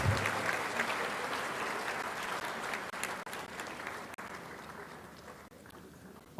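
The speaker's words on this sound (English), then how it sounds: "A louder round of applause to our awardees." Sustained audience applause at a university congregation ceremony, a dense, steady wash of many hands clapping throughout, fairly loud and continuous before easing slightly near the end.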